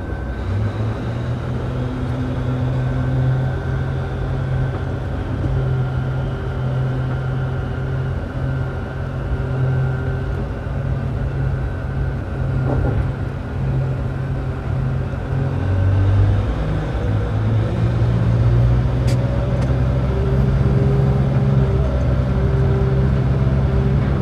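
Komatsu HD785 mining haul truck pulling away in a coal mine, its big diesel engine a steady deep rumble with low drone that builds slightly as it moves off, continuous and close, no talk.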